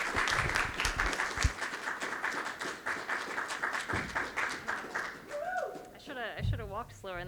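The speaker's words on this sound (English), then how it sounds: "Put your hands together for Ria." A poetry slam audience claps loudly and steadily as poet Ria walks to the stage, the dense applause fading near the end as a voice begins speaking close to the microphone.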